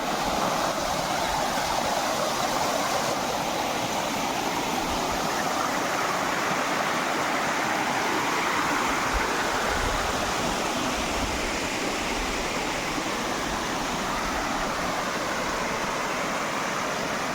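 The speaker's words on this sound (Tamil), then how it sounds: "வேறு லெவலில் இருக்குது தண்ணி பாருங்கள் எப்படி போகுது" A mountain stream rushes steadily at Megamalai, its broadband water noise loud and continuous from start to finish, with no voices.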